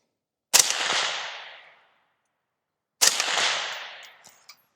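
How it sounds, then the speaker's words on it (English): Two suppressed 5.56 rifle shots fired through a TiTrex 360Ti titanium suppressor outdoors, each a sharp loud report followed by a decaying crack and rumble downrange, spaced a couple of seconds apart with no talk. "Still have that cracking, popping noise downrange."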